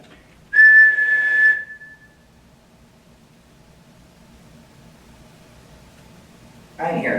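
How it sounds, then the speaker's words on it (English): A person whistles a single sustained note straight into the camera inside an old county jail, lasting about a second, followed by quiet room tone and a burst of noise at the end. "I'm going to whistle right in this camera."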